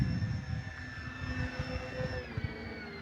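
An E-flite Beechcraft D18 1.5 m twin-engine RC plane hums at 30% throttle, with steady, fairly quiet electric motor and propeller whines that shift pitch slightly toward the end, carried over light, variable wind.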